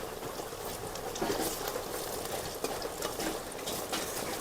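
Beetroot fritters frying in hot oil, giving a steady, dense bubbling crackle with small irregular pops, moderately close and continuous without any talking.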